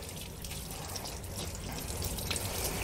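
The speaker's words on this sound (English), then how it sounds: "let's rinse them off and then use a clean towel to dry them off" Tap water runs steadily as hands are rinsed under a faucet, a continuous close hiss and splash at moderate level with no talk.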